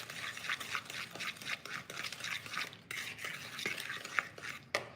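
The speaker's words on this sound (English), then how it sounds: "We're gonna mix that all together." A spoon or whisk works cake batter of sugar, eggs, vegetable oil and vanilla in a bowl, making a steady quick scraping rhythm with occasional clinks, close and fairly quiet.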